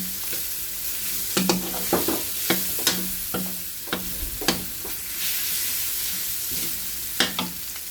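Garlic and onion sauté in a pan for pinakbet, a steady sizzle broken by repeated sharp scrapes and clinks of a utensil stirring, close and alone.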